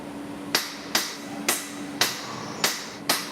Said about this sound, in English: grab your hammer and have a look